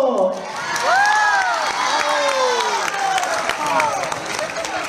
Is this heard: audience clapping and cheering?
yes